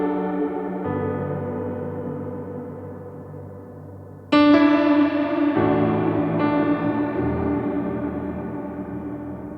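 Sustained Nord Piano 5 digital piano chords with a shimmering, wavering chorus modulation, changing chords every few seconds, played alone.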